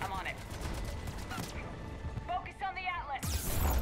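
Enemy gunfire in Mass Effect 3 during the Omega DLC, rapid bursts of shots and impacts with sci-fi weapon whines, ending in a loud crash, while a player talks over it.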